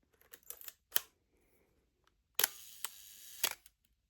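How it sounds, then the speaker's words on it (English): A camera shutter set to a one-second exposure fires in a quiet room: a sharp click, a short pause, then a second click as the shutter closes, followed by another crisp open-and-close pair of mechanical clicks. "you can hear how long it takes to take the photo, because that's how fast the shutter opens and closes"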